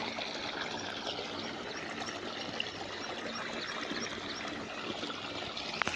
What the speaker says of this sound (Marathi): बघू शकता तळं पार उलटून गेलंय